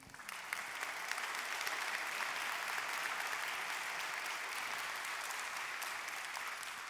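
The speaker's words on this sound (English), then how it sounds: "Let's give a round of applause to our sponsors." Audience applause at a forum's opening plenary, a steady, even round of many hands clapping at moderate distance, sustained without break and fading slightly toward the end.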